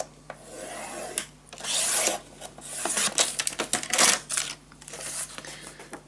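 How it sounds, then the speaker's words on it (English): Paper scored and cut for a hinge on a scrapbook storage tower, rasping scraping strokes and short rubbing swipes in bursts, close and moderately loud, with small taps between and no talking. "make a mark and we score and cut"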